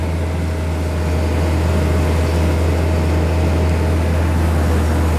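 A combine harvester engine produces a loud, steady drone with a deep low hum throughout, unbroken and close, with no voices.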